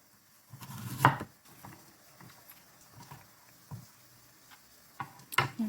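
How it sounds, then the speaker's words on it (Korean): A knife julienning radish on a cutting board, sparse sharp wooden knocks at irregular intervals, one louder chop near the start and a few quick taps at the end, close and fairly quiet. "깨끗이 씻으시고 채 썰어주시면 돼요."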